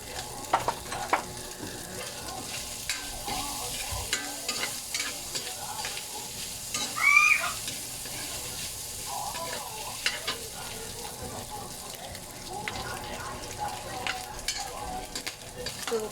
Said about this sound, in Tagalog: Kapag dinigisa natin, lagyan na natin siya ng paminta para kumagat yung kanyang